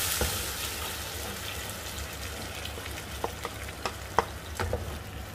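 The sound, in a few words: tomatoes frying in pan for mutton curry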